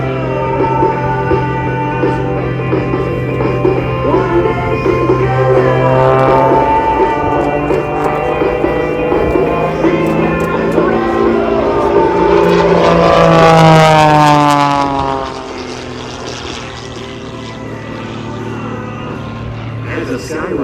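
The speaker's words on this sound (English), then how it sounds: "flies the Ghostwriter into the vertical for his" A skywriter propeller airplane pulls into a vertical maneuver at the Gatineau-Ottawa airshow. The loud engine drone rises and shifts in pitch as it climbs, then eases off, with a commentator talking over it.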